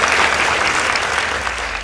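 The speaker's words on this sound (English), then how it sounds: "Please give them a round of applause." An audience at a high school debate competition gives a short, loud, dense round of applause that continues steadily throughout.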